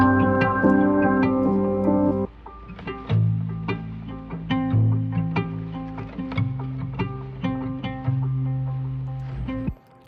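Acoustic guitar fitted with a rubber bridge, filtered and compressed with delay and reverb, plays muted sustained chords and plucked notes in a slow atmospheric pattern, clear and alone, then cuts off at the end.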